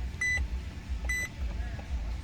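Turn signal indicator of a Maserati Quattroporte, two crisp electronic beeps about a second apart, each with a soft tick, quiet over a low, steady background hum.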